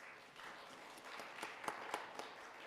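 A church congregation claps together to welcome newcomers during a Sunday service, soft and somewhat distant, with a brief swell of scattered claps that builds slightly toward the end.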